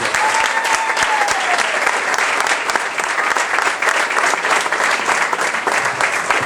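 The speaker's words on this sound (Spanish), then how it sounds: "pon un aplauso al Señor" Steady, loud applause from a church congregation at an evangelical revival meeting, dense clapping sustained without pause for several seconds, with a faint voice briefly audible early on.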